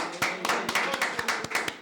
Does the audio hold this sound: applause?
yes